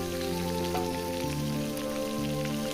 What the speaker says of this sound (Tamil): சின்ன வெங்காயம் போட்டுக்கலாம்